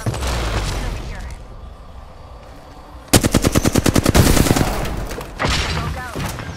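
Rapid automatic gunfire bursts in the video game Apex Legends, loud and close, a fast rhythmic stream of shots over about two seconds, then another burst, with game noise before it.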